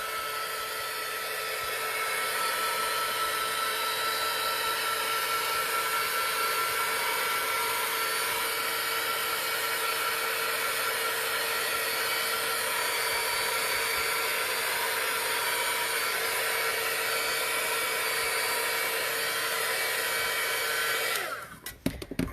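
A hair dryer runs steadily and close for about twenty seconds, drying paint on a pumpkin craft made on a pallet, then cuts off with a few handling clicks at the end.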